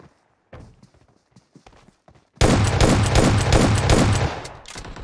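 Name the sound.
gunfire in Free Fire video game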